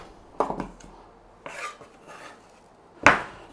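Chopped onion is scraped and tipped into a bowl in a few short bursts, with knife-on-board scraping and soft clatter against the dish, close and fairly quiet.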